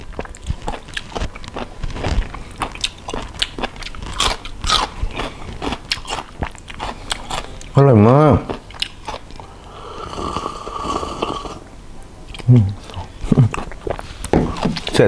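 Large crunchy blood cockles dipped in spicy seafood sauce are bitten and chewed close up, with repeated crisp crunches and smacking under some murmured talk.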